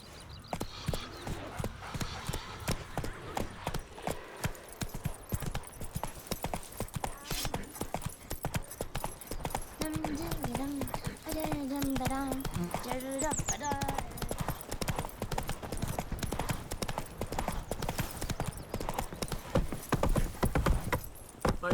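Hooves clip-clop rapidly and steadily as a horse gallops in The Witcher 3: Wild Hunt, continuous and fairly close, with a brief whinny midway and game speech over the hoofbeats.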